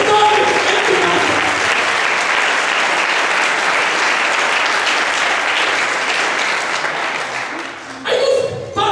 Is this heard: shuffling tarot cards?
no